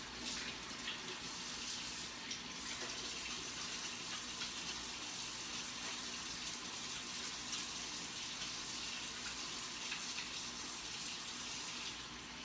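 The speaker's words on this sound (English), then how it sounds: "Then we're gonna wash our hands, of course." Tap water runs steadily into a sink while hands are washed after handling raw chicken during a kitchen prep session, a continuous close rushing hiss with no talking.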